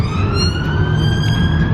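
A police car siren wails steadily and loudly on a British town street, its rising tone sustained throughout over a dense bed of traffic rumble, with no speech.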